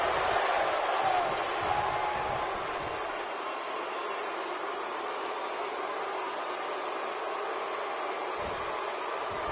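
Arena crowd noise in WWE 2K19, a steady broad roar of many voices from a distance under occasional low thuds, with commentary talk heard over it.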